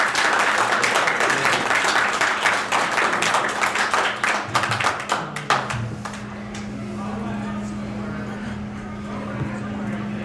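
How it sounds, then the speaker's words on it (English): A live tabletop role-playing audience applauds loudly for about five seconds, with dense overlapping claps that taper off, then a steady low hum remains in the room. "Guys, let's give her a round of applause."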